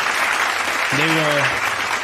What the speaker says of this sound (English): A round of applause, ladies and gents